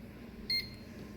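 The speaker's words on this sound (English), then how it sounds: "It's so hard to turn on a microwave with the camera" A microwave oven gives a single short electronic beep as it is switched on, clear and close against a quiet room hum.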